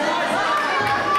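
Fans in the stands at an MMA bout shout and chatter as a steady, dense crowd din, close and fairly loud throughout with no pauses.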